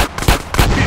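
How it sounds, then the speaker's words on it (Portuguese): Explosions in a remastered Grand Theft Auto: San Andreas, two loud booming blasts in quick succession with broad rumbling bursts and no speech. "Ah, explosão, deu uma melhorada"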